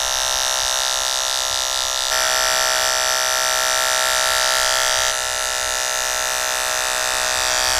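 Electric hair clippers fitted with a number 1 blade buzz at a steady high pitch while cutting a drop fade, continuous and close, with slight shifts in tone as the clippers move against the hair.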